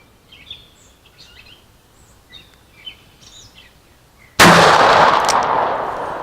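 A S&W Model 629 revolver fires a single .44 Magnum round after a few seconds of faint outdoor birdsong, giving one sudden, very loud blast that decays slowly at the end.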